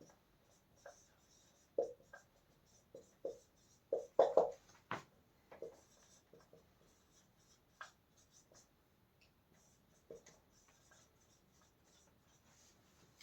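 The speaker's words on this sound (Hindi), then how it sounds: "लिख देता हूं यहाँ पे।" A pen writing on paper or a board during a Class 10 physics lesson on electricity, with soft scratchy strokes in short bursts separated by quiet pauses, faint and close.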